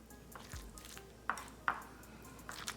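A spoon stirs guacamole with cilantro, jalapeños, onions and tomatoes in a bowl, giving faint soft mixing and two sharp clinks against the bowl in an otherwise quiet kitchen.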